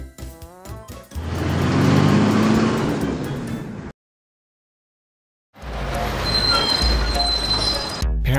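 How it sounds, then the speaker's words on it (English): A cartoon aircraft tug drives along with a rising engine whine and rumble, then a sudden gap of silence before a second burst of motor noise with squeaky tonal accents. "Aircraft tugs."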